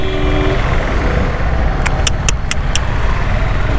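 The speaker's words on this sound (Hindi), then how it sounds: "और यहाँ तो ट्रैफिक कुछ ज़्यादा ही है।" Busy road traffic of cars and trucks passes close by as a constant loud rumbling wash, with a few quick sharp clicks partway through.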